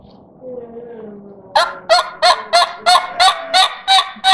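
A hunter huffs a turkey call with forced air, opening with a soft low tone, then about nine loud, evenly spaced honking yelps that are sharp, close and without talk.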